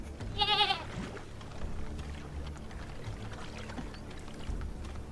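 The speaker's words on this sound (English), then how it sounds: "she brings her goats over to the wet grass along the shoreline to graze a bit" Goats bleat once, a short wavering cry near a wet grassy shoreline, followed by low ambient rumble and faint water sounds in an audio drama scene.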